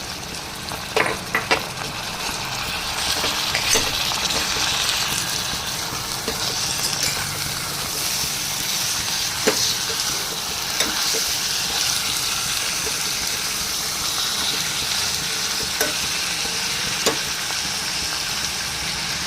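Washed mutton pieces sizzling and frying steadily in a hot pan with garam masala for tomato mutton bagara rice, a continuous moderate hiss broken by occasional clicks and stirring scrapes.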